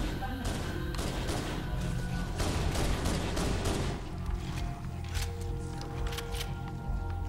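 Pistol gunfire in Halo: Combat Evolved Anniversary, a series of fast sharp shots mixed with thuds and battle noise, loud and dense at first, then easing into lighter intermittent pops.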